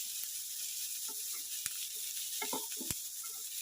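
Small onions and curry leaves sauté in a pan for a sardine dish, giving a steady soft sizzle with occasional spoon scrapes and stirring clicks, no voices.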